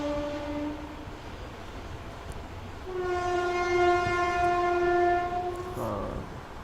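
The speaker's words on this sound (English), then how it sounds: "you're probably able to hear a train" A train passes on a railway track near a home, its horn blaring in two long sustained blasts with the rumble of the cars beneath, loud and close.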